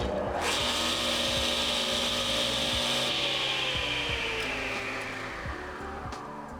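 A Ridgid R4560 table saw spins up and its motor brake stops the blade, a close steady whir with a rising then falling tone that fades quickly toward the end, with no talk.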